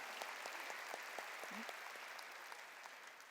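Congregation applauding during a church sermon: a faint, steady patter of many hands clapping, heard from a distance and continuing throughout.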